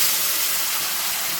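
Masala paste hits hot oil in a pan and gives a loud, steady, close hiss that lasts the whole short moment, with no talk.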